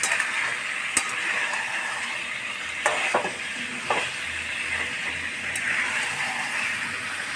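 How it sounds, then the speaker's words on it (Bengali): Marinated country chicken fries in a pan, giving a steady oily sizzle with a few sharp metal clinks from stirring. "এবার এটা একটু ভাজা ভাজা করে নিই।"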